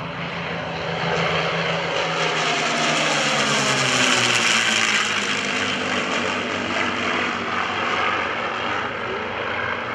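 North American P-51D Mustang on approach and pitching up over an airfield at a World War II air show, a loud sustained piston-engine and propeller roar that swells and then shifts in pitch as it passes.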